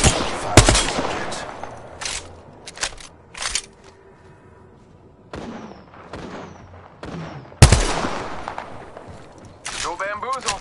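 Rapid gunfire bursts in the battle royale game Apex Legends, sharp repeated shots in clusters with brief pauses, interleaved with game voice callouts and effects.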